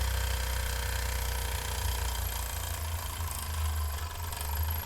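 A Mamod SR1a model steamroller's small steam engine runs steadily, giving a continuous dense chugging rattle with a strong low hum throughout, close and fairly loud.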